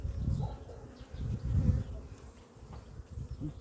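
A low, steady buzzing of many bees swarms close by, droning continuously with slight swells in loudness.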